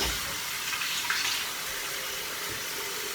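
Warm water running steadily from a bathroom tap before shaving, a continuous close hiss of flow filling the sink with no talking.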